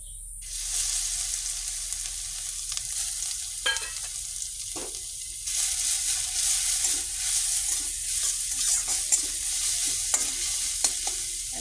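Garlic and cardamom sizzling in a small amount of oil, a steady close frying hiss with occasional spatula scrapes and taps as it is stirred.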